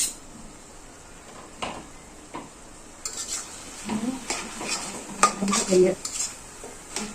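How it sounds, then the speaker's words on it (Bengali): Metal pot and lid clatter while kochu shak and moringa greens cook, with light clinks, a scrape and faint sizzling building in the second half of the clip. "এখানে ঢাকনাটা উঠাতে হবে।"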